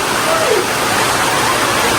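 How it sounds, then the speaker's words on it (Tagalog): Steady heavy rain falling outside a home, a dense, loud and unbroken hiss of water that fills the whole moment with no other clear sound. "Ulan."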